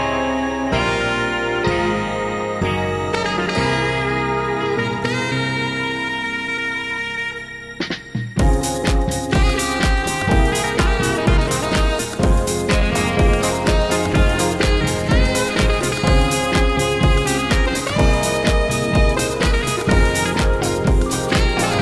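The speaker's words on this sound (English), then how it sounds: "Sounds awesome with the sax, with drums." A music sample built around saxophone and drums, with a quieter melodic intro giving way after about eight seconds to a loud, dense full arrangement under a steady driving beat, continuous and close with no talking.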